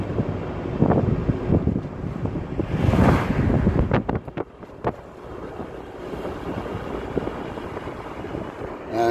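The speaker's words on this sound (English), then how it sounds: "It's going to be a bit windy." Gusty wind buffets the microphone by the sea at a villa rental area, a loud continuous rumble with surging gusts and sharp crackling bursts midway.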